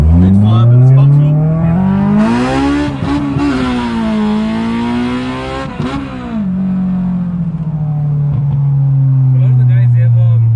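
A naturally aspirated K24 engine in a Honda Civic on pump fuel revs high, to about 8,500 rpm, holding a strained whine, pitch climbing and dipping, then settling into a steady, loud drone.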